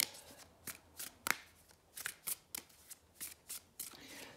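A deck of tarot cards is shuffled in quick, crisp bursts, about a dozen riffles and slides in an even rhythm, close and fairly quiet with no talking.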